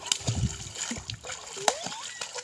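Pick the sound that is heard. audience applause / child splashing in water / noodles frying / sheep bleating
child splashing in water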